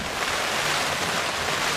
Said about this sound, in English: It's absolutely blowing a gale down here right now. The heavens have decided to open and it's pouring it.